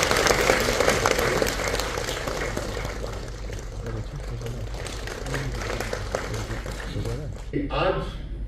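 An audience at an official ceremony in Srinagar claps to welcome a guest, a dense burst of applause that gradually thins, with a voice speaking over the fading claps.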